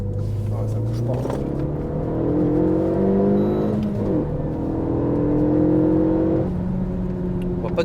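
A Renault Megane 3 RS Trophy engine revs and drones at varying pitch from inside the car, the tone rising and falling with sharp exhaust pops crackling over it.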